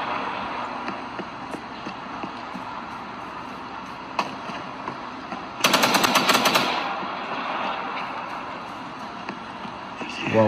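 Gunfire in a Gangstar 5 mobile game, with one dense rapid burst of automatic shots standing out amid game noise, while someone talks over the action.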